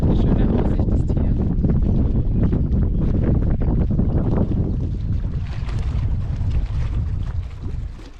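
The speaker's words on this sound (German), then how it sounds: "Aber es ist auch ziemlich windig." Strong wind at the Schönbrunn reservoir dam in the Thuringian Forest, Germany, buffets the microphone in a steady low roar, with a voice faintly present beneath the gusts.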